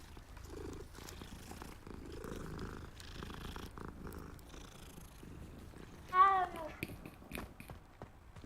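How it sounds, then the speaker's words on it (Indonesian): Cat purring in the video game Hogwarts Legacy, a soft low rumble under quiet game ambience with faint footsteps, plus a brief sharper chirping sound near the end. "Ada kucing lagi."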